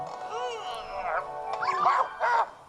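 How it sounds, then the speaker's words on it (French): Polterpup, the little ghost dog in the video game Luigi's Mansion 3, gives a string of high, yipping barks and whimpers that rise and fall in pitch, close and fairly loud within the game's audio. "Oh oui, le petit ecto-chien, c'est vrai."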